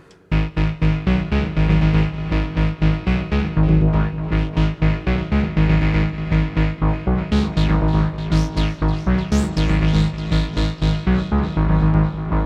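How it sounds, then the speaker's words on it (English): A Syntrx II synthesizer sequence plays a fast, steady run of distorted, buzzy notes, looping loudly and continuously with the tone brightening and dulling as it goes. "We were just running a sequencer."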